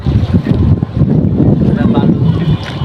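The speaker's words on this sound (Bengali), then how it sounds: "আরেকটা ট্রলার যাচ্ছে ওখান থেকে।" A trawler passes nearby on rough, choppy river water, giving a steady low engine rumble and churning water mixed with heavy wind buffeting close to the microphone.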